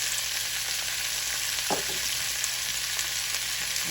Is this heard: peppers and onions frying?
yes